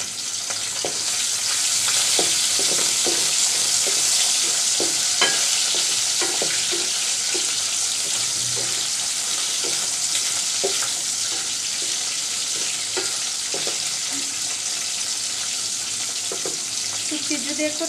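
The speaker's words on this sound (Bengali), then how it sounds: "রসুন দেওয়ার আগে শুটকিটা একটু তেলে ভেজে নিতে হবে।" Dried churi fish sizzles in hot oil in a pan, with a steady frying hiss throughout and repeated scraping, clinking stirs of a spoon at an uneven rhythm, close and loud, with no talk.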